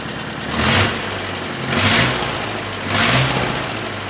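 A Nissan 910 Bluebird wagon's engine runs steadily and is revved three times, each rise swelling loudly for about half a second before settling back to a rough idle.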